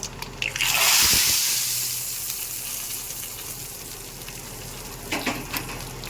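Hot mustard-oil tempering with black mustard seeds, curry leaves and dried red chilies poured into sambar, giving a loud, sharp sizzling hiss that peaks at once and then fades into a softer bubbling crackle, with a brief spoon clink.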